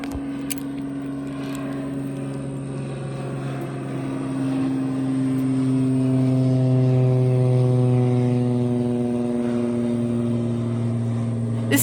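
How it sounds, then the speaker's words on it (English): An airplane drones overhead above a nature preserve trail, a steady tonal engine hum that gradually grows louder and lower in pitch as it passes, heard alone without talk. "look at this, here's that airplane"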